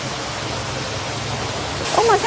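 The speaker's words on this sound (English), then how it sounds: "Check out that water feature." A town-built outdoor water feature splashes with a steady broadband rush of falling water, moderately loud and continuous, with a brief voice speaking near the end.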